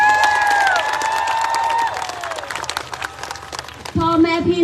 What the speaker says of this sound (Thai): ปรบมือดังๆเลยครับ